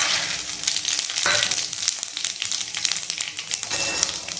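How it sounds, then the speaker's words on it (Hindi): Cumin, cloves, black pepper and bay leaf sizzle and crackle in hot oil for a Hindi-style mix veg tadka, a steady near frying hiss with small pops throughout. "उसके बाद लगा लेती हूँ सब्जी में तड़का। और जी जीरा, लौंग,"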